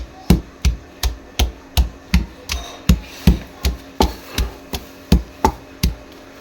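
Half a kilo of green chilies is pounded and crushed for sarson ka saag in a steady run of about twenty sharp, close thuds, evenly spaced, with no talking.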